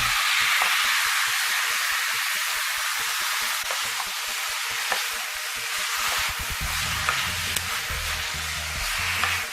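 Mushrooms hit a hot pan for a roast and sizzle steadily, with a hissing, crackling frying sound and occasional stirring scrapes toward the end, no talking.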